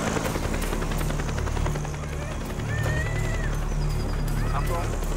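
A helicopter in a German radio drama throbs loudly and continuously with rotor chop, steady throughout while voices talk over it.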